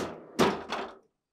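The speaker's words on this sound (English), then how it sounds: "Start by opening the freezer door." A GE French-door refrigerator's freezer door being opened, giving two close thumps about a third of a second apart, each followed by a short rattling decay before silence.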